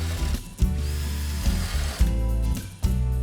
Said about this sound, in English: drill all the way through with the smaller drill bit so the screws can pass through the timber